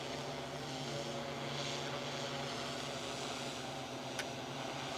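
A DJI M30 drone hovers about 223 feet overhead, giving a steady, continuous whirring drone that stays level throughout with no talk over it.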